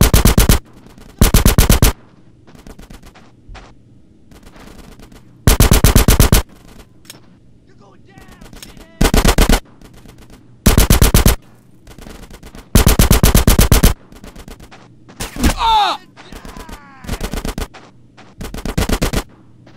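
Bursts of automatic gunfire from a GTA: San Andreas firefight rip out loud and close in repeated long volleys, separated by quieter gaps with a low engine hum and scattered shouting.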